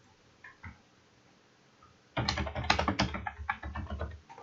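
Rapid typing on a computer keyboard to enter an activity into a logbook form, a dense run of close, crisp key clicks that starts abruptly after a quiet pause with a couple of faint taps.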